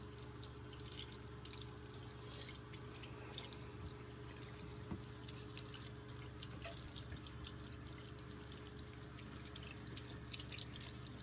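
Tap water runs steadily into a sink while food is rinsed, a constant soft rushing and dribbling stream with faint drips, fairly quiet and unbroken throughout.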